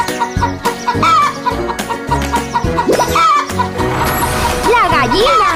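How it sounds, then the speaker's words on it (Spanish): Hen clucking in a children's animal-sounds quiz: short repeated clucks and squawks over a background of music, with childlike voices and other animal calls mixed in. "¡La gallina!"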